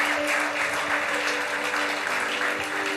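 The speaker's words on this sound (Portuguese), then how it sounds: "aplauda a Jesus" Congregation applauding in a church, a steady, dense wash of many hands clapping together, loud and continuous throughout with a faint held tone underneath.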